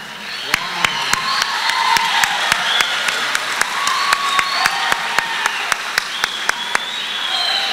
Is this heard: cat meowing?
no